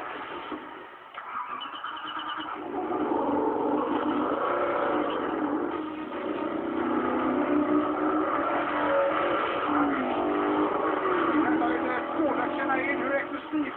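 A Koenigsegg CCGT race car, built on a CCR, with a loud engine sound that swells from about one second on and stays steady and sustained, its tone shifting as the revs rise and fall, with speech faintly beneath it.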